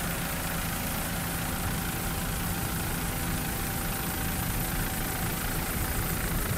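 A racing offshore powerboat engine at a Daytona Beach race roars steadily and loudly, a dense, unbroken drone filling the whole stretch without pause.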